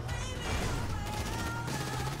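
Dense, continuous burst of automatic gunfire in GTA 5, loud and close with rapid overlapping shots and no pauses.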